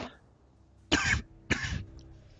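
Two sharp coughs close to the microphone, about half a second apart, against quiet background.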